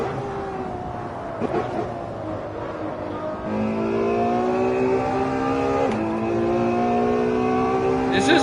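A front-engine Ferrari in the racing game Assetto Corsa revs hard and close, its engine note climbing steadily through the gears with a sharp shift partway through.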